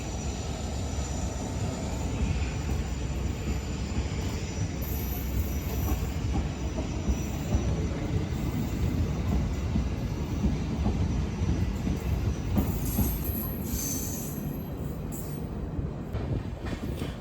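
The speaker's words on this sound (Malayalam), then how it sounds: "ഈ ട്രെയിൻ ജയ്പൂരോട്ട് പോകുന്ന ട്രെയിനാണ്." A train rumbles continuously and loudly near a railway station, a dense steady roar of wheels and carriages with faint high squeals drifting above, no speech.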